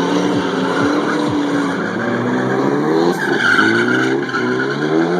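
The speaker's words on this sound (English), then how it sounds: "Here they come, four wide. Gonna come right up that wall" Drift cars running four wide toward a wall at a 2011 Stunt Wars drifting round, loud engine roar with sustained tire squeal and skidding, rising and sweeping past.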